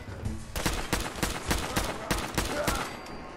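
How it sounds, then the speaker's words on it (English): A rapid, sharp volley of gunfire crackles in Fallout 4 VR as shots hit a shack, close bursts in an uneven rhythm over roughly three seconds, then the firing stops. "Who the hell is shooting my shit shack?"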